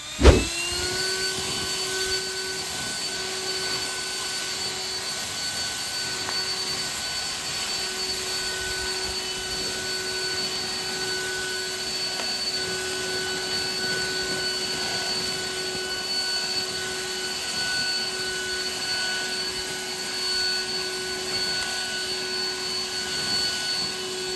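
Osuka OCLB446-P1 petrol leaf blower running steadily in a rubber plantation, a constant loud engine drone with a high whine and airy rush, starting with a brief bump and then holding even throughout, with no talking.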